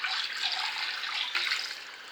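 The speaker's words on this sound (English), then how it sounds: "we run some water over that" Tap water runs steadily over chicken back being rinsed for Jamaican curry chicken, a close, even hiss of flowing water with no other sounds.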